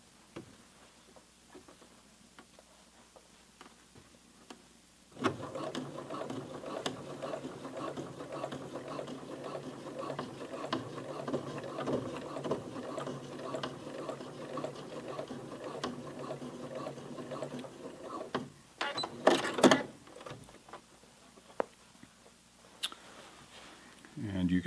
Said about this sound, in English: I'm only going to stitch over the flat felt seam where we've done the cutoff on this